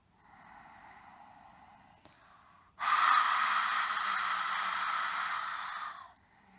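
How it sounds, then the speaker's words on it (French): Yoga breathing with a closed-mouth throat contraction: a soft, quiet airflow, then after a brief pause a louder, steady hissing exhale lasting about three seconds, close and alone, with no speech. "Ça rend le souffle légèrement sonore."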